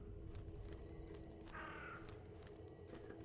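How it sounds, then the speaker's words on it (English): A single crow-like caw sounds in The Sinking City, fairly faint and brief, over a steady murky outdoor ambience. "Bird."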